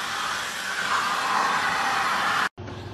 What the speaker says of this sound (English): They have this atomic hair dryer.